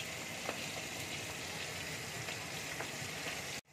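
A soft, steady bubbling hiss of lentil dal boiling in a pot, faint and continuous, cutting off abruptly near the end.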